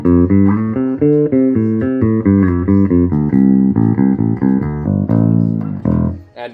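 A Harley Benton RB-414CS bass guitar with Duncan pickups in parallel wiring plays a clear melodic line of distinct plucked notes, loud and close, with no talking.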